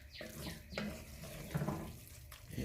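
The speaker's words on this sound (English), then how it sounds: "Still might add a little bit more pasta water." Pasta water is poured into a pot of sambal pork ramen noodles, making faint, intermittent trickling and splashing over a low kitchen background.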